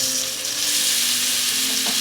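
Mutton pieces hit hot oil in a pan already seasoned with bay leaf, crushed garlic and onion for a Bengali mutton curry, giving a loud, steady sizzle and crackle throughout with a brief stir near the end.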